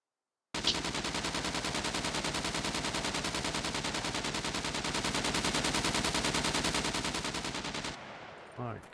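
A long, unbroken burst of rapid automatic gunfire in the SCUM video game hammers away close and loud for about seven seconds, then cuts off into brief rattling afterward.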